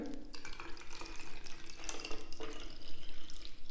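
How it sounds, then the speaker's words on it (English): Distilled water poured into a container, a continuous close splashing and gurgling stream that stays fairly loud from start to finish with no talk. "get your distilled water in the container"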